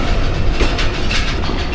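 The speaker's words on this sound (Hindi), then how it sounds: "हज़ारा एक्सप्रेस के साथ क्रॉस हो रहा है जी" A passenger train crosses the Hazara Express at Gujar Khan railway station in the evening, with a loud, close rumble and rhythmic clattering of wheels on rails that runs throughout.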